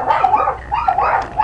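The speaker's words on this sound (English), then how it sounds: "my dog's going crazy." A dog yips and whimpers excitedly in quick, high-pitched bursts, close and fairly loud, with no talk over it.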